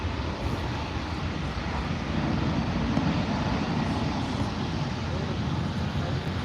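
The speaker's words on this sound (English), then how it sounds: "There's the EasyJet A321 off to Lisbon." An EasyJet Airbus A321 departs Manchester Airport for Lisbon, its jet engines giving a steady, loud broadband roar that holds throughout, with voices talking over it.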